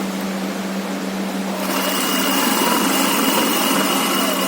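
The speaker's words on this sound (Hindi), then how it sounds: "मैं पहले ये आसन को सिलूंगी, ये दोनों बराबर रखकर इस तरीके से, और 1 सेंटीमीटर सिलाई करूंगी" A sewing machine stitches a trouser pocket seam, its steady, even whir starting partway through and running continuously, close and fairly loud with no talking.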